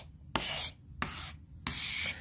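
A knife blade is drawn across a whetstone to sharpen the tip, three firm, even gritty rasping strokes separated by short pauses, close and alone.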